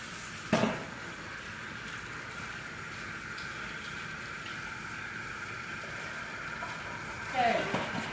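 Tap water running steadily into a kitchen sink while hands are rinsed after handling BBQ boneless ribs, a constant hiss near and moderately loud, with a sharp clatter at the start and a splash of dishes near the end.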